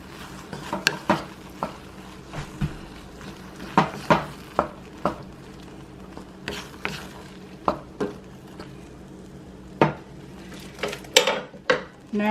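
Kraft macaroni and cheese being stirred in a metal pot, with a steady series of scraping clinks and knocks of the utensil against the pot, some sharp and some soft, repeating irregularly close up over a faint background hiss.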